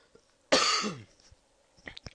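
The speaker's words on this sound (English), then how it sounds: "Excuse me, I need to cough." A single sharp, harsh cough close to the mic, brief and alone, followed by quiet small noises.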